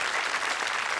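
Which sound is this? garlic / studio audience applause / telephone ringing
studio audience applause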